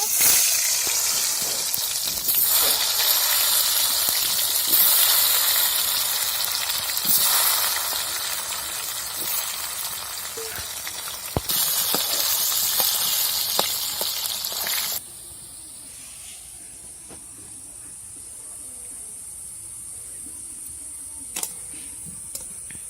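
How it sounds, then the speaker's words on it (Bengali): Cut potatoes dropped into hot oil in a large pot for a village-style chicken biryani. A dense, loud sizzling hiss with crackles settles after a while into a quieter, thinner fizz. "আমি ওই তেলে কেটে রাখা আলুগুলো দিয়ে দেব"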